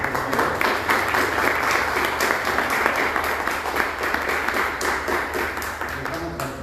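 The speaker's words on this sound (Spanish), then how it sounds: "Damos un aplauso, por favor." An audience at a book presentation at a cultural centre in Coatepec claps steadily, sustained applause with distinct individual claps over a low hum, voices murmuring underneath.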